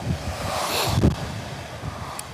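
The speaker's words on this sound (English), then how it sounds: "It's quite windy today" Gusty wind buffeting the microphone in low rumbling bursts while riding a Vespa GTS300 scooter, with one stronger gust near the middle.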